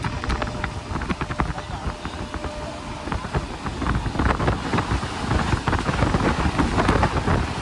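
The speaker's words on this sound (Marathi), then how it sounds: "पाऊस बघ किती जोरात लागतो इकडे" Heavy rain pours steadily with gusty wind noise, a loud continuous roar throughout.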